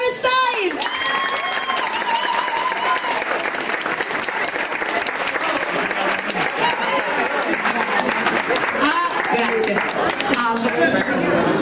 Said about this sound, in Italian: L'applauso per il gruppo Gangnam Style.